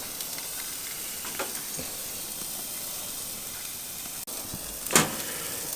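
Steak and burgers sizzle on a Monument Grills Mesa 405 gas grill, a steady close hiss that runs throughout, broken by a single sharp click and a brief metallic clank near the end.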